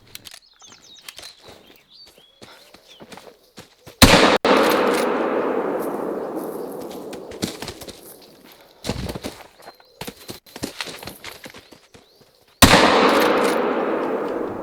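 Two loud, close gunshots in a hunting video game, each with a long decaying tail, separated by quieter clicks and rustling from reloading and movement.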